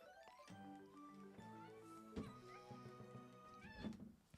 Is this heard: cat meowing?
yes